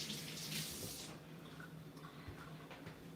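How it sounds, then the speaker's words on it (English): Tap water runs from a kitchen faucet as hands are rinsed, a steady close wash that is strongest at first and then thins to a quieter trickle. "I'm gonna rinse my hands again"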